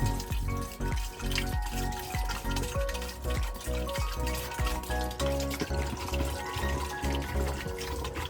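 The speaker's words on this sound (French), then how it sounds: "je vais mettre ici 1 litre de mon mélange de prêle. Voilà, directement dedans." Horsetail mixture poured straight into a 5-litre plastic box, a continuous close gurgling stream of liquid with splashing throughout, no talking.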